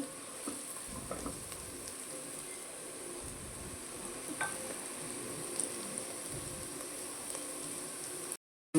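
Flat beans and egg curry fry in oil in a pan with a soft, steady sizzle at low volume. A few faint clinks break it before it cuts to brief silence at the end.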